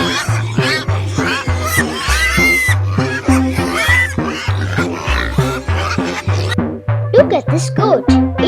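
A goat on a farm bleats repeatedly over bouncy, steady-beat children's music, its wavering cries rising and falling close by throughout.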